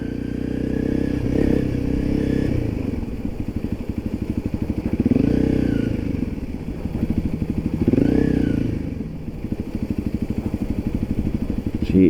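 A motorcycle rides a bumpy dirt path with deep holes in Thailand, its engine thrumming steadily as it swells through revs several times, with rattles and thumps from the rough ground throughout.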